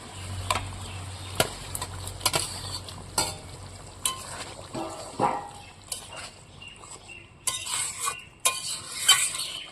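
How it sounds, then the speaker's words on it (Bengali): Fried pointed gourd pieces tipped into a boiling curry gravy clatter and splash, with sizzling bursts, utensil clinks and scraping sounds near and fairly loud, in irregular spurts. "এখন এইখানে ভেজে রাখা পটলগুলো সব দিয়ে দেবো"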